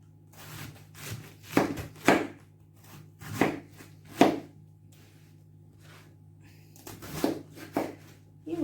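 A knife chops cabbage into small cubes on a board, a series of sharp, close knocks in uneven bursts with short pauses between them, and no voices.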